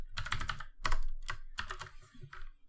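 Code is typed on a computer keyboard while working in Unity on a game, with quick close bursts of key clicks separated by short pauses.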